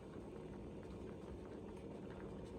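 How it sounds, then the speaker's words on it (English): Sweet rice mixture for orange-walnut espasol boiling in a pan, a steady low bubbling simmer that holds evenly and fairly loud throughout, with no talk over it. "Okay, so this is now boiling"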